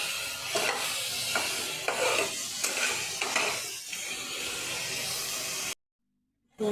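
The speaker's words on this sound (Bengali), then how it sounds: "দুটো পেঁয়াজের পেস্ট দিয়ে দিচ্ছি। একটু লাল লাল করে ভালো করে ভেজে নেব।" Onion paste frying in a pan for chole masala, a steady oily sizzle with scraping stir strokes repeating every second or so, dropping to silence near the end before resuming briefly.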